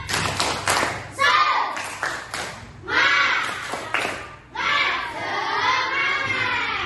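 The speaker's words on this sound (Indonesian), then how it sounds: "Oke, semuanya tepuk semangat." A primary school class in Indonesia does a rhythmic spirit clap. Bursts of sharp, patterned hand claps alternate with children's voices chanting loudly together in short phrases, close by in a classroom.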